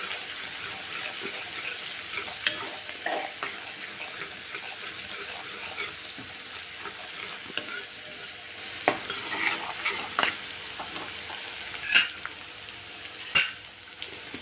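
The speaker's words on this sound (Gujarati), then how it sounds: "લીલા લસણને આપણે સરસ રીતે સાતળી લઈશું" Green garlic sautés with asafoetida in a hot pan, giving a steady close sizzle under occasional stirring scrapes and light metallic clinks of a spoon.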